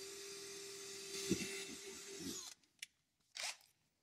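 A power drill whirs steadily for a couple of seconds drilling a pilot hole, then stops, followed by a few brief scraping and tapping sounds nearby.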